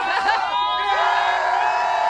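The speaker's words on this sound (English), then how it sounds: "this is not stopping you from cheering on the Panthers, right?" Fans at the Florida Panthers championship victory parade on Fort Lauderdale Beach let out a loud, sustained cheer and whooping roar that swells at the start and then holds steady.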